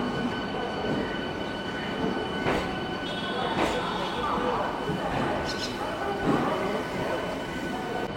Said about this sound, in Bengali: আর এটা হচ্ছে 18 নম্বর প্ল্যাটফর্ম, ছেড়ে দিল আমাদের ট্রেন।